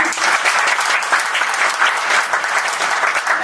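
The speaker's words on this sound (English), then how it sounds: "So a huge round of applause for him." A conference audience at an annual sales conference gives a loud, full round of applause, dense, close and continuous for the whole stretch with no speech over it.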